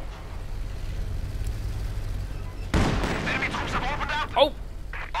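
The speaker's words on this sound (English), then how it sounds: "Coming under fire with the field gun" Field gun fire in a Company of Heroes 2 battle: a sudden loud boom lands about midway, preceded by a low rumbling battlefield bed, with further crackling impacts and short bursts trailing after.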